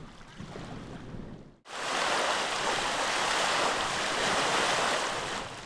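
Waves on Lake Towada during a stand-up paddleboard race, heard as a broad, steady wash of choppy water and wind. It starts quieter, breaks off briefly, then returns loud and continuous close to the microphone.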